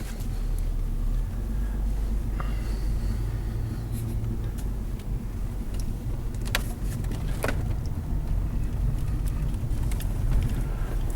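A car drives through city streets, its steady low engine rumble and road noise continuous and close throughout, with a few brief higher clicks and whooshes passing by.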